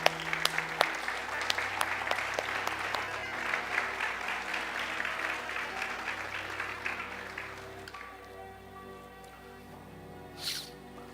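Church congregation applauding, steady clapping through most of the stretch that fades out, leaving a quieter hum of the room near the end.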